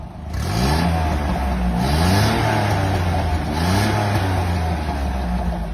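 A car engine revs steadily with the vacuum exhaust valve open, fitted by an exhaust service shop, giving a loud, continuous throaty roar with repeated rising and falling pitch sweeps close to the microphone.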